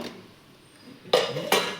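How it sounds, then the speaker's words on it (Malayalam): A pressure cooker holding cooked beef is opened, with two sharp metallic clanks of the lid close by after a short quiet stretch, no voices. "നമുക്ക് കുക്കർ ഓപ്പൺ ചെയ്യാം."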